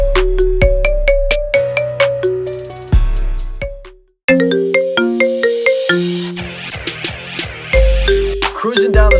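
Ringtone version of a rap song, a loud synthetic melody of repeated bright electronic notes and deep bass hits, briefly dropping to silence near the middle before resuming.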